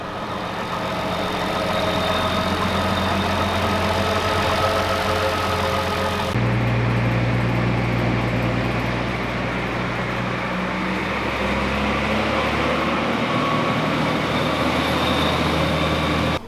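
A turbocharged Toyota 1FZ-FE inline-six in an 80 Series Land Cruiser build, running on a dyno during run-in, a loud steady drone that drops to a lower note partway through and holds, close with no talk.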